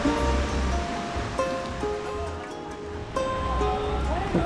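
Oak Creek in Sedona, Arizona, flows over rocks in a steady, close rushing wash of water that fills the whole stretch, with faint tonal sounds drifting over it.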